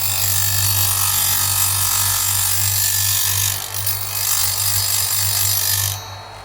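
A grinding wheel, the kind used for sharpening harvester chain, runs with a loud steady motor hum and a continuous abrasive hiss, close by, easing off near the end.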